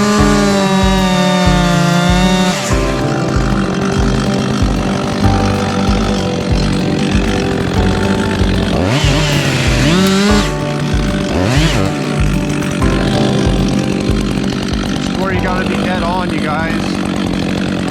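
A chainsaw runs loud and close while cutting a leaning tree, its engine revving and bogging as it bites into the wood, with a voice heard briefly.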